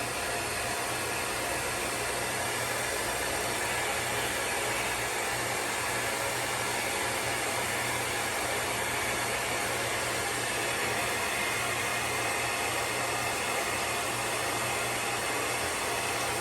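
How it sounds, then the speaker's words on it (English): A blow dryer runs continuously on a beard, giving a loud, even, steady rush of airflow with a motor hum underneath, unbroken and close for the whole stretch. "we're going to hit the cool button on the blow dryer"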